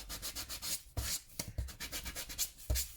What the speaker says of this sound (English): So I've got a wet wipe, just rub off the excess